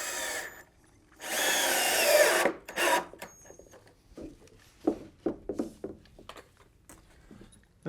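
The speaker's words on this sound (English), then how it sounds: "I put one screw in one side first" A power drill drives a screw into a wooden farmhouse table, one loud whirring burst of about a second and a half, followed by scattered knocks and clicks of handling the wood.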